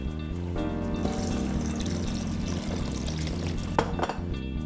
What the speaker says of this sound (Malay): Kemudian dalam sup ni kita masukkan air.